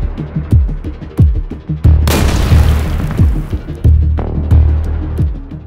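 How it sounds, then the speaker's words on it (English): A tank maneuvering and firing, with a series of deep booming shots before a huge blast as it strikes a mine and explodes, followed by rumbling and further heavy thuds. "a tank is maneuvering and firing normally until it hits a mine."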